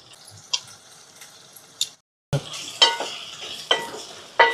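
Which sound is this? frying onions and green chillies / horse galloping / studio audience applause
frying onions and green chillies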